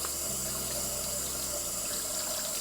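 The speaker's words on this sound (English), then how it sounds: "after I wash all this oil off my hands" Water running steadily from a kitchen tap while oil is washed off hands, a constant close hiss and splash that stays level throughout without any voice.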